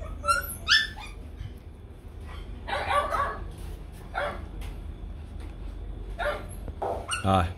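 Several puppies bark, yip and whimper in short, high-pitched bursts, some close and loud, others fainter, scattered across a steady low background hum.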